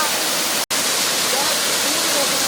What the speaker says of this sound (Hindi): अभी देखो पानी